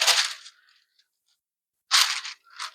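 A pair of scissors clatters onto a hard surface, then a second bright rattling impact follows a moment later, near and fairly loud, with silence between.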